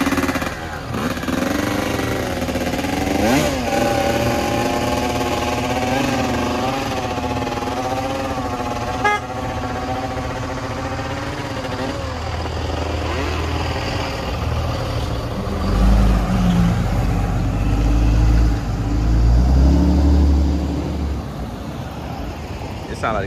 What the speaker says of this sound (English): Sound like the clutch is probably slipping.